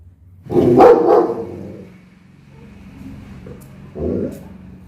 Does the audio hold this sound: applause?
no